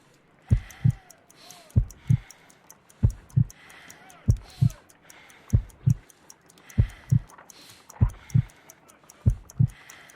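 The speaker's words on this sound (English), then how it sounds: "I need to concentrate and count the heartbeats." Heartbeat in the video game Sherlock Holmes: Crimes & Punishments, a slow, steady lub-dub pulse repeating about eight times, deep and distinct over a quiet background.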